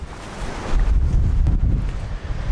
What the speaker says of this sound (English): It's still early, the wind is blowing.